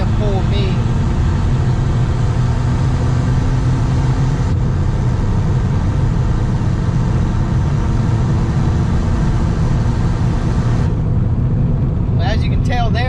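A VW Jetta TDI diesel fitted with a hood stack exhaust drives along, its engine droning as a steady low rumble heard from inside the cabin, continuous throughout with a brief shift near the end.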